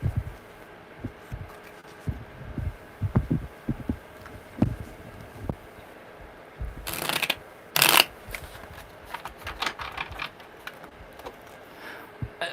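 Tarot cards are shuffled by hand in a series of soft riffles and slides, with a couple of louder bursts of card noise partway through; no one speaks.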